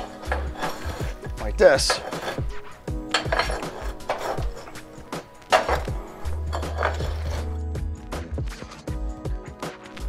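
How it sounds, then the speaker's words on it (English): A homemade stove tool scrapes and pushes embers to the back of a wood stove, giving repeated metallic scrapes and clanks against the firebox floor, close and fairly loud, with a person talking in between. "you can go right down to the base and you can push all your embers to the back of the stove"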